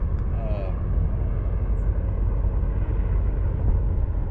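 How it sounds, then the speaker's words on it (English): A helicopter drones overhead as a continuous low rumble that holds steady throughout, fairly loud and filling the background. "there's a helicopter coming"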